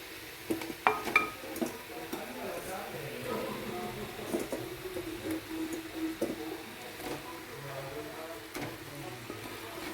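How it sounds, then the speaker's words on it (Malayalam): Chicken pieces for a chicken stew drop into a pan of sautéed onions with soft scraping, clinks and a low sizzle. The sound is quiet and uneven, with a few sharper knocks early on and a faint voice underneath. "ഇനി നമുക്കിതിലേക്ക് ചിക്കൻ വാരിയിട്ട് കൊടുക്കാം"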